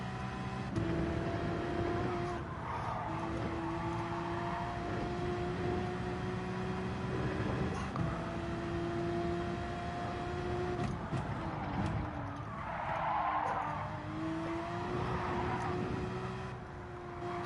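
A race car in Gran Turismo 7 at the Nürburgring GP circuit: a steady, droning engine note with tonal whine that dips and climbs as the gears are flicked down under braking, close and continuous, with no talking.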